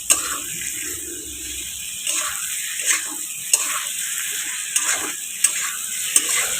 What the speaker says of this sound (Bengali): এবার আলু দিয়ে দেবো। আলুটা দিয়ে কিছুক্ষণ কষাবো।